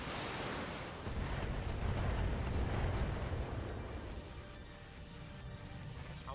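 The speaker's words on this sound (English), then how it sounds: "Fire the missiles." A volley of missiles launched in the BattleTech video game: a loud, rumbling burst of blasts and crashing impacts that swells over a few seconds and then tapers into a lingering roar.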